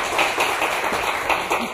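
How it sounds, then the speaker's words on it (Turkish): A television game show studio audience claps, a short burst of brisk close applause lasting under two seconds. "Alkışlar sizin için Gökçen."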